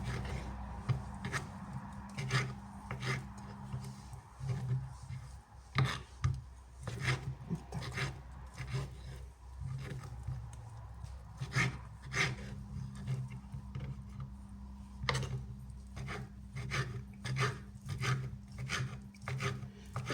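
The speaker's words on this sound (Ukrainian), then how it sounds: "Тепер беремо крабові палички і теж ріжемо." Knife cutting crab sticks on a board while assembling a layered holiday salad, a steady run of short crisp slicing taps and rasps, close and fairly quiet, with no talk.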